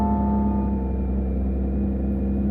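A Porsche 992 GT3 RS engine running just after startup, a steady close idle with a firm low hum and tonal whine, unbroken for the whole short stretch.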